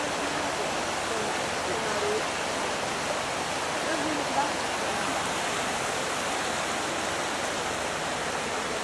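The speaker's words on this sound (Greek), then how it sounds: "Το ποτάμι κάτω από το καταράκτη." A river rushing below a waterfall at Petra makes a steady, dense broadband roar of water, constant and unbroken throughout, with no distinct voices standing out.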